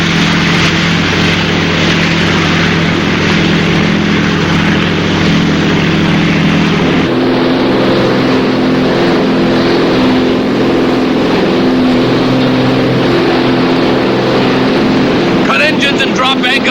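Boat engines run steadily and loud throughout, a constant low drone with a shift in pitch partway through as the craft changes speed, then ends in a brief splash-like rush.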